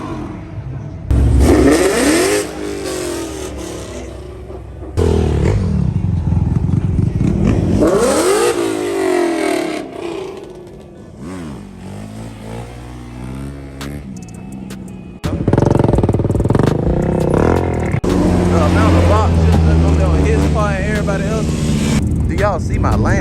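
Twin-turbo car engine revs hard in repeated rising bursts, loud and close, with a gap near the middle before a long sustained run, while people talk excitedly over it.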